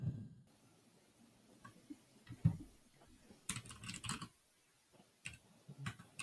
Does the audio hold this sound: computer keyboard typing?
yes